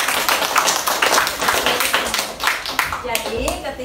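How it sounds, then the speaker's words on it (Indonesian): Clapping breaks out for a class of students after they answer a question in a school lesson, a brief burst of hand claps from a small group, fairly close and mixed with voices. "Tepuk tangan untuk kalian semua"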